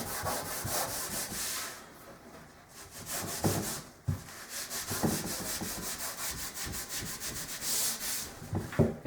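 Hand sanding of a kitchen cabinet door scuffs the surface ahead of a polyurethane coat, giving steady rhythmic rubbing strokes, near and moderately loud, with brief pauses and no talk.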